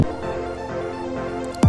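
Wavetable synth plugin holding a sustained buzzy tone whose timbre shifts smoothly as frames morph, fairly quiet and steady, ending with a short bright burst.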